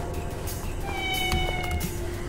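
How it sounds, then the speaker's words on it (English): A cat meows faintly in the distance, a couple of thin drawn-out calls rising over steady background noise and a low hum. "And I even hear them meow"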